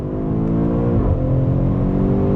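Engine note of a 2021 BMW X5 M Competition under throttle, a loud harmonic growl that dips briefly at a gear change then climbs again, close and without speech.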